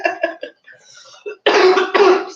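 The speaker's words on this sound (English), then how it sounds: "that's a regular cough, not a COVID cough." A person coughs twice in close, loud bursts after a few earlier short throat sounds, indoors while spinning fiber at a spinning wheel.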